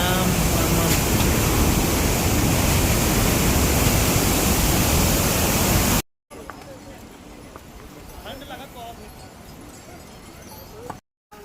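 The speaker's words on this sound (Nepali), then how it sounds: "यहाँ खोला" Mountain river along the Gaurikund to Kedarnath trek, a loud, continuous roaring rush of water for about six seconds before cutting to a quieter outdoor scene with scattered footsteps and faint sounds.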